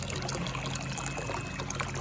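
Water trickles from a collection tank into a tilapia fish tank in an aquaponics setup, a continuous close splashing and burbling without voices.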